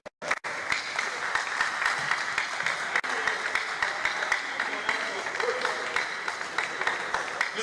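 An audience at a Pest Control Association of Nigeria panel session claps steadily, dense applause filling the room for several seconds after a sharp opening clap, with a voice speaking over it.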